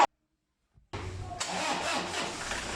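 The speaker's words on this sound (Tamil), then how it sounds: "இதுக்கப்புறம் நம்ம வந்து காரை ஸ்டார்ட் பண்ணி பார்க்கலாம்." A car engine cranking and catching after sitting unused for a long lockdown, starting abruptly from silence and settling into a steady, fairly close idle.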